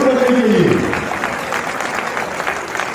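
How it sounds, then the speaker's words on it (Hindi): Audience at a provincial convention of a diploma engineers' association bursts into applause as a memento is presented to the chief minister, a dense burst of clapping that fades gradually over a few seconds. "तालियां जरूर बननी चाहिए।"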